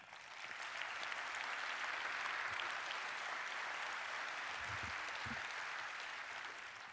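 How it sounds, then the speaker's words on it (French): An audience at a business leaders' speech breaking into sustained applause, a broad even wash of clapping that holds steady for several seconds with a few low thumps. "que je vous demande d'applaudir"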